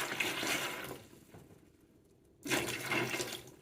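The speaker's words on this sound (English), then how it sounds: "Now we're going to just take our hydrated lime and pour it over the eggs." Hydrated lime mixture poured over eggs in a jar, a rushing liquid pour in two bursts separated by a quieter pause, close and fairly loud.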